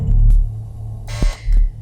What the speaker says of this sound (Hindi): बजर अब आपने दबा दिया